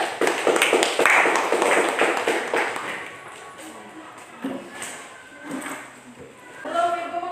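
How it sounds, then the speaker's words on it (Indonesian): Classroom applause from students, a dense run of claps at first that thins into scattered taps and fades, with talking and background voices running under it. "Berikan tepuk tangan dulu."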